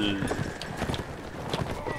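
Horse hooves clip-clop in the video game Mount & Blade: Warband, a quick run of soft hoofbeats mixed under other game sounds.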